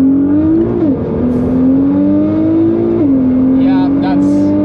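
A 2009 Nissan GT-R making 608 wheel horsepower accelerates hard at the Nürburgring. Its loud, close engine note climbs steadily in pitch and drops back at two gear shifts.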